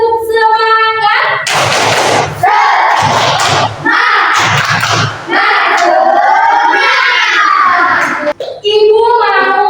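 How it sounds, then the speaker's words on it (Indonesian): A classroom of children does a rhythmic clapping ice-breaker chant, with loud bursts of claps and shouted group voices alternating with a teacher's sung lines. "Tepuk semangat."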